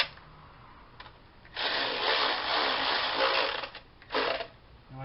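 A ratchet or small power driver spins, running bolts into the oil filter housing on a 2014 Dodge Avenger; a buzzing whir of about two and a half seconds, then a shorter burst, in a quiet garage.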